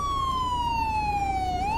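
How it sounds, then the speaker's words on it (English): Police car siren in GTA 5 with the LSPDFR mod, a clear continuous wail sliding slowly downward then sweeping back up, steady and fairly loud with no talk. "he has his siren on"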